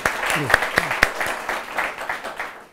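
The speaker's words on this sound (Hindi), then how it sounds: "स्वागत करते हैं ज़ोरदार तालियों के साथ श्री सुनील कुमार गुप्ता जी का" A studio audience on a television business show gives applause, a short spell of clapping with a few distinct nearby claps, mixed with a voice and fading out quickly.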